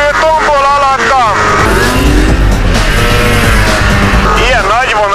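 A two-stroke Ski-Doo MX Z Renegade 800 snowmobile runs hard on snow, its engine loud and close, revving up and down in rising and falling sweeps throughout.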